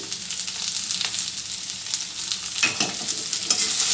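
Poppy seeds, fennel and cashews fry in a pan for paneer masala, giving a loud, close, continuous sizzle and crackle with busy stirring throughout.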